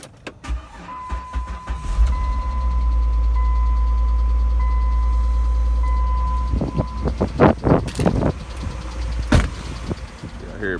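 A 2009 Dodge Journey picked up from an auto auction idles with a steady low engine drone for several seconds, followed by a burst of louder, uneven rumbling and knocking near the end.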